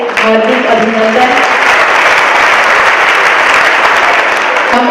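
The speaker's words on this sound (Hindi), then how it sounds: "आदरणीय शिवानी दीदी का बहुत बहुत दिल की गहराइयों से जोरदार तालियों से हार्दिक अभिनंदन" An indoor audience greets BK Shivani at a Karnal spiritual talk with loud, sustained applause, a dense wash of clapping that swells in after a brief spoken phrase and holds steady to the end.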